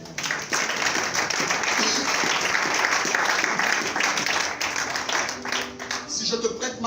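A church congregation breaks into dense, sustained applause, loud and continuous, with voices mixed in under the clapping before it thins toward the end.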